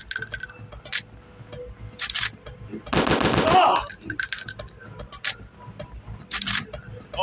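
Automatic gunfire in a shooter video game: a dense burst of rapid shots fills about a second mid-clip, with scattered single pops and clicks before and after over a steady game background.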